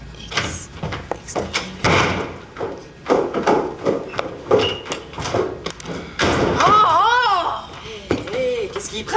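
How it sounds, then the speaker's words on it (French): A door slams shut in a French-language TV drama scene, a loud thud standing out among bangs and knocks, with voices talking over and around it. "Qu'est-ce qu'il prend, Simon, de claquer la porte comme ça?"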